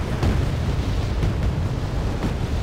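Artillery explosions in the Wargame: Airland Battle video game, a 10v10 battle on the Ragnarok map, form a loud, continuous low rumble with several heavier booms rolling through it.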